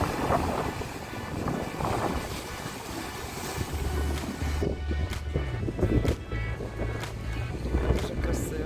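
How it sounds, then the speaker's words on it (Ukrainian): Rough sea waves rolling in at the shore on a windy day, a steady loud wash of surf with wind buffeting the microphone and low rumbling, close and continuous. "Ух, як морічка хвилюється."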